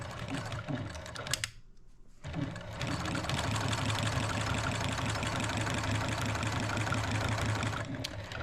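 A home sewing machine stitching straight lines through a layered quilt with a 3mm stitch length, whirring in a steady, fast, close rhythm for most of the span after a brief pause near the start.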